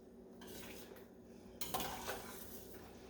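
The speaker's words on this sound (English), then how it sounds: "Stir that up real good." A spoon scraping and knocking against a pot while homemade potato soup, thickened with a little instant mashed potato, gets stirred; a few clinks and a louder scrape near the end, close up and with no talking.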